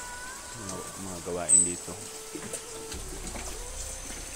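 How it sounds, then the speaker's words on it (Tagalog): Steady rushing of river water runs in the background while someone speaks over it, with a faint tonal hum partway through. "Ito yung ilog tol."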